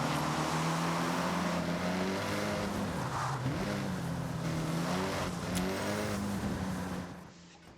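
A turbocharged rally car with anti-lag in Forza Horizon 6 roars and revs hard, its engine note rising and falling with crackling pops layered in, loud and continuous before dropping away at the end.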